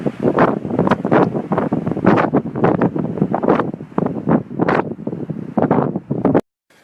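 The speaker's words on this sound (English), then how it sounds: "It's a little windy right now, so sorry about the noise" Wind buffets the microphone in loud, gusty bursts, a continuous roaring rumble that cuts off abruptly at the end.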